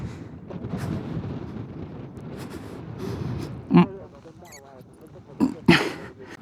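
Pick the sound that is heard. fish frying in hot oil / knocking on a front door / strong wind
strong wind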